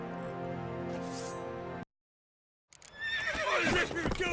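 In The Witcher 3 video game, a loud, drawn-out horse whinny during a fight, then a brief silence, followed by another shrill neigh with hoof clatter and commotion.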